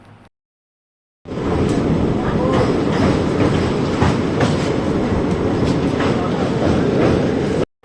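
A passenger festival special train running from Chennai to Santragachi between Andhra Pradesh and Odisha. After a second of silence, a loud, steady rumble with rhythmic clickety-clack and wheel noise comes in close and continuous.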